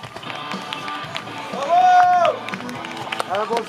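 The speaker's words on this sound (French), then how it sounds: "On peut applaudir Panzer et X-Angel." At a CWF professional wrestling show, a crowd claps and cheers after a match, with scattered hand claps and shouts mixing with a loud sustained whistle or cry in the middle and a burst of clapping near the end.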